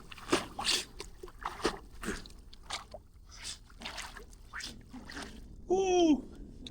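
Water splashes and sloshes in short bursts as someone swims in a river near a village char, close by, with a brief quacking-like call near the end and no talk.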